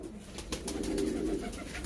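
Pigeons cooing close by in a low, continuous, throaty murmur that swells slightly in the middle of the short stretch, with no voices.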